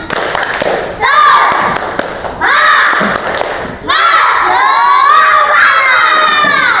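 A class of children shout a rhythmic cheer together with clapping, in loud bursts that rise in three waves and then hold, with an adult voice in the gaps between them.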